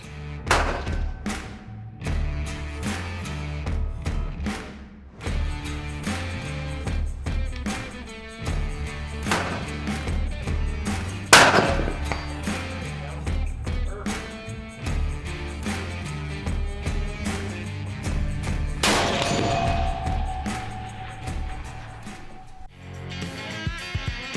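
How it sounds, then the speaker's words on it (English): Rifles being test-fired on a shooting range, with repeated sharp booming shots spread across the stretch, some close and loud, echoing over open ground among quieter rustling in between. "the first thing they do is check their rifles on the range"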